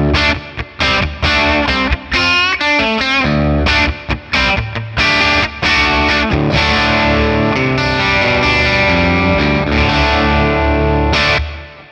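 Distorted Les Paul electric guitar in drop D through a Friedman PLEX amp capture with reverb, playing a loud, continuous riff of ringing chords and quick bent notes, with brief gaps, then a held chord that tails off.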